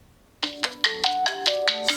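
Ringtone on a Nokia 5.4 phone: a bright melodic tune of repeated electronic notes in a quick, bouncy rhythm, starting after a short silence and playing clearly and close.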